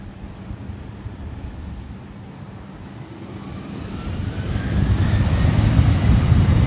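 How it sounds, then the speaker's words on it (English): A Delta Boeing 737-900ER jet airliner on the runway at San Juan airport gives off a broad roar of engine noise. It swells steadily louder over several seconds, heard from a distance with no voices. "Delta 737-900ER now lining up."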